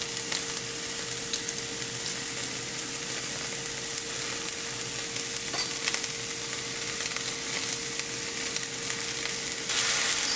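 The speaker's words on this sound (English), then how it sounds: "Get these broken up a bit so they're evenly browned while they're being sauteed" Chopped onions sauté in a pan with a steady, close crackling sizzle and occasional stirring scrapes, continuous throughout and slightly louder near the end, with no voices.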